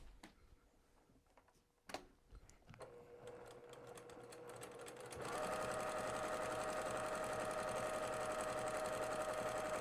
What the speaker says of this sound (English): as I go over to my sewing machine, I'm going to sew on